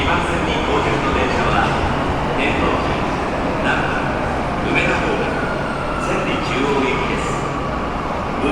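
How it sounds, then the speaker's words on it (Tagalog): A train pulls into a station in Osaka, Japan, its steady rumble and rail noise filling the scene under continual chatter from nearby voices. "ito na yung train namin"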